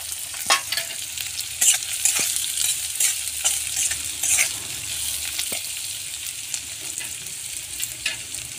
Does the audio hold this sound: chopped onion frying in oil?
yes